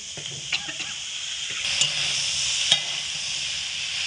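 Fried vegetables tossed into hot spices in a pan for an aloo, potol and data dish, a loud bright sizzle swelling up as they land, with scraping stirs and a couple of spoon knocks.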